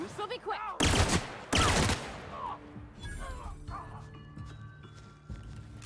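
A three-shot gun fires loud bursts in the video game The Outer Worlds, two heavy blasts close together early on, followed by quieter game sounds and a muffled voice.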